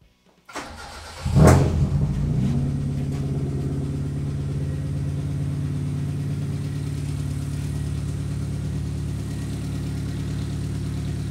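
A race car with an aftermarket exhaust fires up inside a shed, a sharp starter crank giving way to a loud burst, then settles into a steady, deep, rumbling idle close by.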